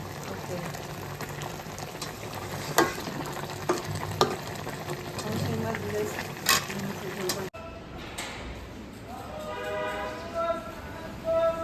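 Red amaranth greens cook in a pan with a fish head and tail in a Dhaka home kitchen, giving a bubbling, sizzling simmer with occasional stirring clatter that cuts off abruptly, then quieter cooking under faint background voices.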